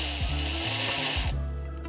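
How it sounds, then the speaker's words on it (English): A 7 mm tool tightens a hose clamp on the turbo outlet of a GM 1.4L Chevy Cruze, giving a loud, close run of rapid ratcheting clicks that ends abruptly, with no talk. "we're gonna use a 7 mil to tighten up that clamp"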